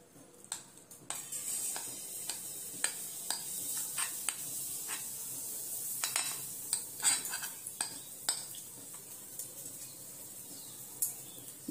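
Dhokla mix stirred into hot mustard oil in a pan, giving a steady sizzle under repeated scraping and clinking of a utensil against the metal, with sharp knocks scattered throughout.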